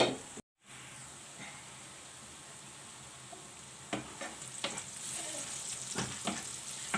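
Onions and peppers sauté in a pan for a Turkish menemen, a steady soft sizzle running throughout with a few scraping stirs and clinks near the end, and no talking.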